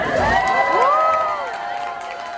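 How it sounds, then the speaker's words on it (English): An audience at an aquarium sea lion show cheers and whoops, with bright children's shouts rising over a loud crowd that tapers slightly toward the end. "I would hear a huge round of applause as we introduce you to the sea lions you'll be meeting today."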